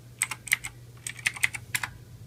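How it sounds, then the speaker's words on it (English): Keys clack on a computer keyboard in a quick burst of about a dozen close, crisp strokes in uneven rhythm, typing a command over a faint steady hum. "In here, you want to type Diskpart."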